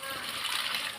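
Tamarind water pours and splashes out of a mixer jar in a home kitchen, a short, soft gush of liquid with a faint sloshing quality.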